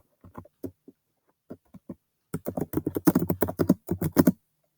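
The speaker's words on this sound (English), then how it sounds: "Here now I'll be able to directly type onto the document" Close, clear keystrokes on a computer keyboard: a few scattered taps at first, then a quick, dense burst of rapid typing, with no voice over them.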